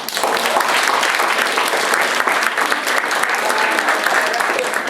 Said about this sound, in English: Confidence, let's hear clap.